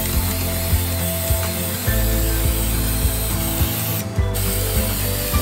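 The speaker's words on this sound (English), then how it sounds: "you are going to have the hydrangea about 12 inches more or less from the spray paint to the flower" Spray paint hissing from a can onto hydrangea flowers, a steady loud spray mixed with repeated ratcheting clicks, likely from the can's nozzle or shaking, and a brief pause near the end, with no talking.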